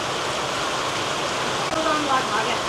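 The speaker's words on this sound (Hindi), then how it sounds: "ये टिन शेड की नालियों से जो पानी आता है ना" Steady rain pours off the drains of a tin shed in a village on a rainy day, a dense constant rush of falling and splashing water with no pauses.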